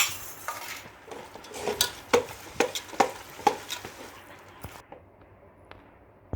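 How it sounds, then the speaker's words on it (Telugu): A spoon stirs chicken biryani ingredients in a cooking pot, giving a series of close metallic clinks and scrapes over a soft background hiss, spaced roughly every half second before trailing off. "అన్నీ బాగా కలుపుకోవాలి"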